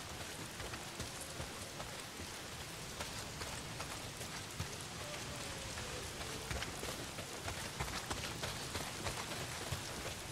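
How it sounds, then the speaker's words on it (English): Steady, dense rainfall in the video game Days Gone, a constant hiss of drops pattering on surfaces throughout, evenly loud with no talking. "Well, not if it's pissing down rain."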